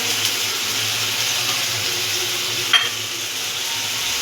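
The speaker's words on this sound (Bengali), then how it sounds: "দিয়ে সেটা আমরা একটু নাড়িয়ে চাড়িয়ে নেবো।" Turmeric, black pepper and salt are stirred in a hot, sizzling pan, giving a steady close frying hiss with a faint spoon scrape and a single small clink.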